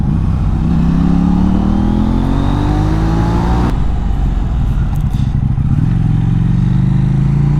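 A KTM Duke 790 motorcycle ridden hard along winding country roads, its engine note rising through the gears in repeated revving sweeps, loud and close with wind rush and no talking.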